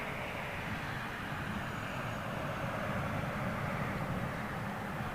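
A Lufthansa Cargo Boeing 777 at Heathrow produces a steady, moderately distant broadband roar of jet engines, an even wash of noise with no voices over it.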